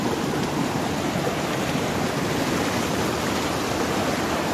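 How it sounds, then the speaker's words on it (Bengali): A fast-flowing mountain river in Sikkim rushes past nearby in a steady, dense roar of water that holds unbroken and loud for the whole stretch, with no voices over it. "এই পাশের দিকটায় নদীটা পাহাড়ের দিক দিয়ে আসছে, খরস্রোতা সাউন্ড দিচ্ছে"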